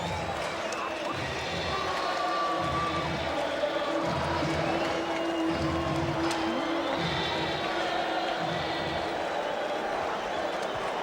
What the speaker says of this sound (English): Listen to this crowd and that chant.